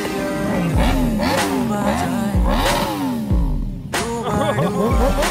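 A Yamaha R6 sport motorcycle engine revs hard and repeatedly, each loud close rev climbing sharply in pitch and dropping away in a fast rising-and-falling pattern.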